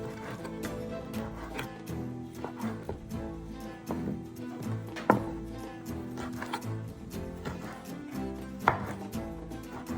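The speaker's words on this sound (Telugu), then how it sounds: "చిక్కుడుకాయ ఫ్రై అయ్యేలోపు కొంచెం టమాటోస్ సన్నగా తరుక్కున్నాం" Tomatoes being finely chopped with a knife on a board, a quick irregular run of close, crisp taps with a couple of sharper louder strikes.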